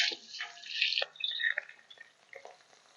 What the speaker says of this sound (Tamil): இப்போ நம்ம நறுக்கி வச்சிருக்கிற சின்ன வெங்காயத்தை இதை போடுறேன்